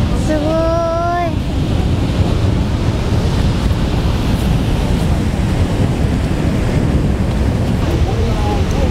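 Water from the inspection discharge at Yagisawa Dam rushes in a loud, steady, roaring torrent. It continues without a break, and a brief whistling tone can be heard near the start.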